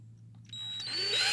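A small drill bores into a 1/64-scale diecast Hot Wheels car body, a high-pitched whine that starts abruptly and rises in intensity over a low steady hum, close and brief.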